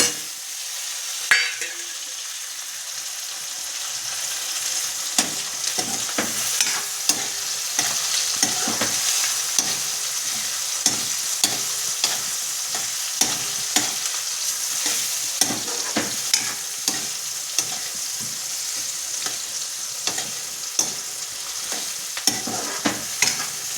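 Tomatoes and spices sautéed in hot oil in a pan, a continuous close sizzle broken by frequent spoon scrapes and clinks against the metal, steady for over twenty seconds with no voices.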